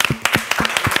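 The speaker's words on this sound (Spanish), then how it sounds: "aplausos" Applause in a Spanish-language talk show studio: a short burst of sharp, uneven hand claps, close and fairly loud, with a faint voice mixed in.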